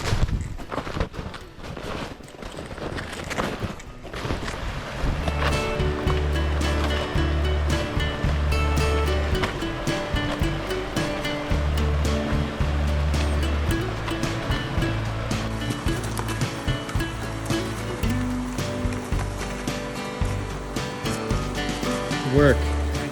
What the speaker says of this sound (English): hiking along bubbling brooks